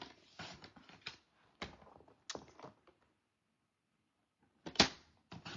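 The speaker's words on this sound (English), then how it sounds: "So I'm going to cut this side at 1 3/4." Cardstock being cut for an Easter card with a paper trimmer or blade gives short, crisp scraping and clicking bursts in a few separate clusters, with quiet gaps between them.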